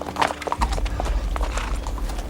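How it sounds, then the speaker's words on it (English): Horse hooves clip-clop in an irregular rhythm over a low rumble, close by, with no talking. "Simon, ensure the horses are properly stabled."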